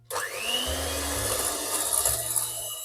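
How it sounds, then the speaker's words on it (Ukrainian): Electric mixer whipping eggs with sugar for a Raffaello-style cake: a steady close whirring drone that starts abruptly and rises in pitch as the speed is stepped up, with no talking. "І далі збиваємо по наростаючій швидкості. Починаємо з мінімальної, закінчуємо максимальною."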